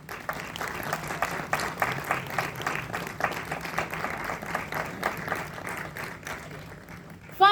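Audience applause welcomes a speaker on stage at a film industry event, a steady wash of many hands clapping at moderate distance for several seconds before a brief louder burst at the end.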